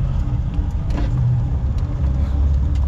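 A car drives uphill through forest in a national park on the Acatenango volcano in Guatemala, its engine a loud, steady low rumble from inside the vehicle with light rattles and knocks over it.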